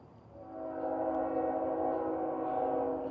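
An Amtrak train at Lawrence Station, a low, steady rumbling drone that swells and then holds at a moderate level, heard from some distance with no talk.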